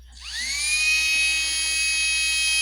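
Small vacuum motor on a model railway cleaning train spinning up from rest with a rising whine, then holding a steady high-pitched drone that stays loud and continuous.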